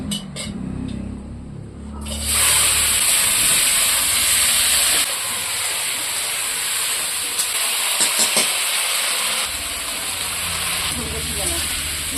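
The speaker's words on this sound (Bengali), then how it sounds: "আদাটা দিয়ে বেশ ভালো করে নেড়ে নিচ্ছি" Fried potatoes with turmeric and ginger are stirred in a pan over a steady, loud sizzling hiss, with scraping stir sounds. Someone talks briefly at the start before the frying noise dominates.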